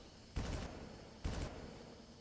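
Two separate gunshot bursts ring out in the first-person shooter Far Cry, each a sharp, loud crack with a short decaying tail, spaced about a second apart over a steady low background hum.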